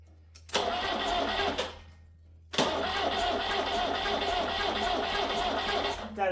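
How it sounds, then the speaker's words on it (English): A Peugeot 504 engine, parked since 1987, cranks over with a rapid, uneven chugging, stops briefly, then cranks again at length without catching, sounding weak with compression on only one cylinder. "That is the sound of compression on like one cylinder."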